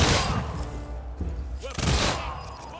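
A Janissary musket volley in the video game Humankind gives a loud burst of massed shots up close. Another heavy crack of fire follows, and a voice calls out between the shots.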